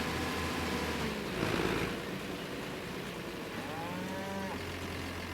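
Hungry cows mooing in Farming Simulator 25, a couple of moderately loud moos over a constant low machinery drone, one call standing out near the end.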